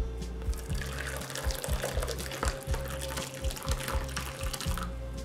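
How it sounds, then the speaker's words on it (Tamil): Curdled milk is poured through a cotton cloth to strain homemade paneer, giving a continuous splashing, trickling pour over a low droning hum with irregular thumps. "இப்ப பன்னீரை இதல ஊத்திடலாம்"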